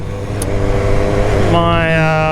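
A BMW motorcycle engine pulls hard under acceleration, its rising harmonic whine climbing steeply partway through, loud and close over steady wind rush.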